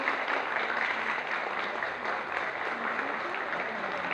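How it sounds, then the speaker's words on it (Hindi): A crowd at a blind school centenary event applauds continuously, a steady, dense wash of clapping from many hands at moderate distance with no pause. "आप लोग तालियां बजाते रहें, जोरदार ताली बजाएं"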